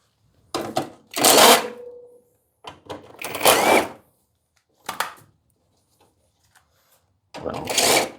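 Screws being backed out of the carburetor cover on a Toro CCR 3650 snowblower, heard as several short bursts of ratcheting and metallic handling noise separated by quiet gaps, close and fairly loud with no talk.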